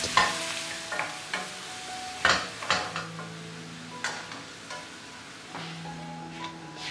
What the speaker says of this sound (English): Now add 2 medium onion chopped to small pieces. Saute well and let it get soft.